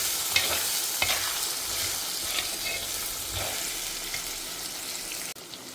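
Grated coconut stir-fried in a pan with boiled chickpea sundal, giving a continuous close sizzle and crackle broken by light scraping strokes of a spatula, with no voices.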